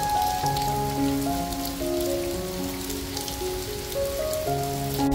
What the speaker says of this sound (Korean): 벌써 시원한 빗소리 오케스트라의 공연이 한창입니다